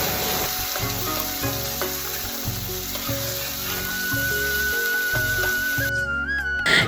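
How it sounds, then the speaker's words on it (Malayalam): Onions, green chillies, ginger and curry leaves sauté in ghee with salt in a pan for upma, a steady crackling sizzle under quiet background music, the frying swelling briefly louder near the end. "അല്പം ഉപ്പ് പൊടി ചേർത്തിട്ട് നന്നായിട്ടൊന്ന് വഴറ്റി കൊടുക്കാം കേട്ടോ"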